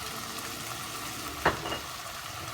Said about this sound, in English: You hear that sizzle a little bit?